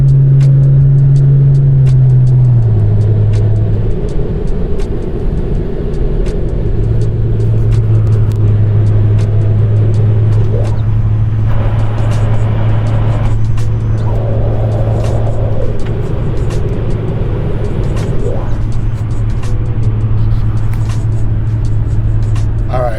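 Steady engine drone from a 2006 Lexus GS300 held in one gear while cornering, a loud continuous low hum from inside the cabin that stays level with only slight shifts in pitch and some road rumble.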